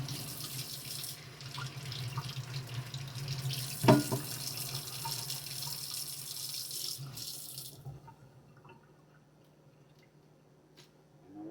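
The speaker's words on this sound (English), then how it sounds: "I'm just gonna rinse it off a little bit" Tap water runs steadily into a sink as an avocado is rinsed under it, a broad close splashing hiss for about eight seconds that cuts off abruptly, leaving a quiet room with a few faint clicks.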